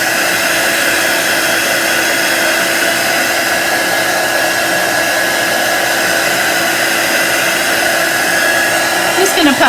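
A hair dryer or similar blower roars steadily and loudly at close range for the whole stretch, drying ink on a pillow cover, with no break in the airflow.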